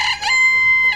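Backyard chickens crow and cluck loudly and close by, a sharp clucking burst at the start, then a long, sustained, strained crow held to the end.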